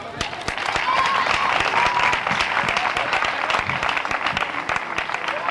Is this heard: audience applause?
yes